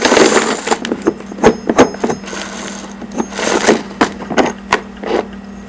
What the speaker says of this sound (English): Give it a light chamfer.